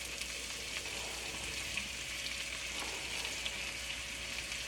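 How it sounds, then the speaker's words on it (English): Shredded cabbage sizzling steadily in a hot pan for a cabbage and potato sabzi, a constant even frying hiss with faint crackles, fairly quiet, no talk. "I'm going to add my cabbage to the pan"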